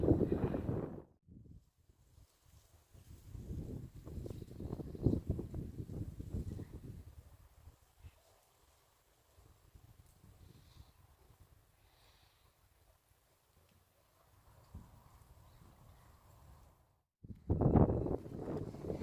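Gusts of autumn storm wind buffet the microphone at an allotment in low rumbling bursts, fading to quieter stretches between, with a final strong gust at the end.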